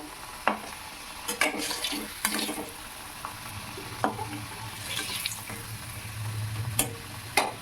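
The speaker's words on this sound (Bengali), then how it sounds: "এইভাবে আমি আস্তে আস্তে সমস্ত আলু টুকরোগুলোকে ভেজে নেব" Potato pieces deep-frying in oil: a quiet, continuous sizzle with intermittent clinks and scrapes of a utensil moving the pieces, plus a brief watery splash.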